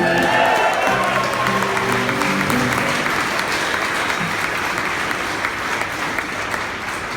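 A live audience at Angel City applauds after a song, with dense, steady clapping and a few cheers close by, slowly thinning toward the end.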